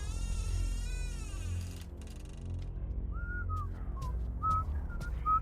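A man whistles a wavering tune indoors, faint and intermittent over a low background drone, preceded by a louder sliding tone.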